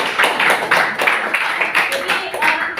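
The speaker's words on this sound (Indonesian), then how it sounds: "Tepuk tangan untuk Aldo." People in an academic coaching session clap for a participant: brisk, rhythmic clapping from a small group, with speech running over it.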